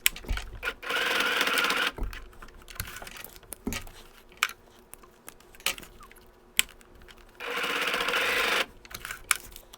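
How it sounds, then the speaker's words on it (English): A sewing machine stitches nylon strapping onto a buckle for a bike seat bag, running in two loud steady bursts of rapid needle chatter, with clicks and handling noises of the fabric between them. "fold it in half, and then sew it on"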